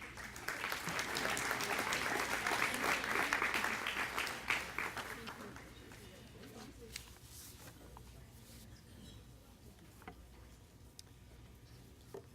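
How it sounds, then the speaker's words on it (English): Applause from a banquet audience at a school district recognition dinner rises in a dense patter, then thins to scattered claps and fades to quiet, fairly soft and a little distant. "Please give them another round of applause"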